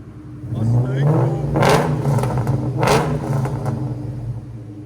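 A 2003 Ford Mustang SVT Cobra with a supercharged 4.6L V8, headers and Borla exhaust revs hard twice, each loud roaring burst rising then falling back to a deep idle rumble, with someone talking between.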